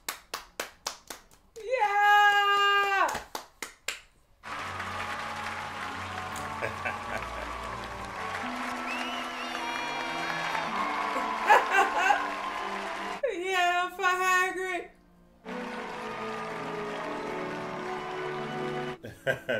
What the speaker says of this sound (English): Can I give him a round of applause?